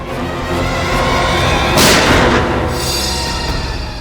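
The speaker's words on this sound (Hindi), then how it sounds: "गोली चलने की आवाज इस तरफ से आई।" A single sharp gunshot bursts out at mid-clip in a Hindi crime drama episode of CID, loud and broadband against a steady, dense background of music and ambience.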